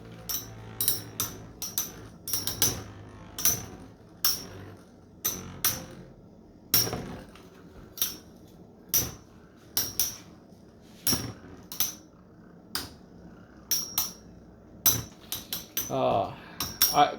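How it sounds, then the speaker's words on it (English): Metal Fight Beyblade spinning tops clash repeatedly in a tournament battle, sharp bright tings and clanks arriving in quick irregular bursts over a low rumble, with no talk. "something about the metal clashes and metal fight, little tinging noises"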